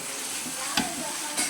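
Ginger paste sizzles steadily in a hot pan, a continuous frying hiss broken by two brief scraping strokes of stirring.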